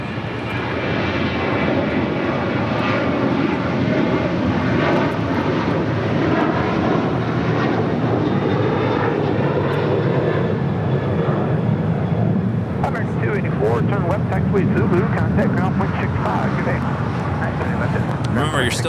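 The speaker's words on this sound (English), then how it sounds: "That is Norse, the Dreamliner heading back to London Gatwick." A Norse Atlantic Boeing 787 Dreamliner roars loudly and continuously at LAX, its jet engine rumble and rushing whine swelling and holding close by, with faint clicks and voices near the end.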